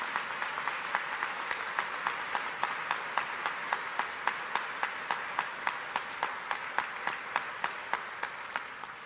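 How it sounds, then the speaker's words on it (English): Audience round of applause for public officials at the unveiling of Indiana governor Mike Pence's official portrait, a steady wash of many hands with distinct individual claps popping through, sustained and moderately loud. "Would you give all these public officials a great, great round of applause?"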